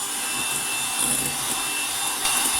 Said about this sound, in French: on va fouetter à fond pour incorporer donc pour faire qu'un avec ces deux éléments